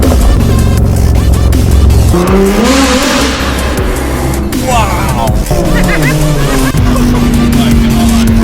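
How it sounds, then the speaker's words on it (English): A Dodge Hellcat fitted with a loud ARMYTRIX exhaust roars and revs up close, with the engine note rising and falling continuously and a person exclaiming over it. "We're very excited to see how loud this Hellcat's going to be."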